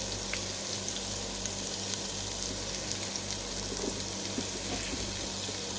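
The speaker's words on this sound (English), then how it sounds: "I'm going to add in the onions, and I'm just going to let those sit and saute" Onions sauté in melted butter in a pan for braised red cabbage, a continuous close, even sizzle with faint crackles and no voices.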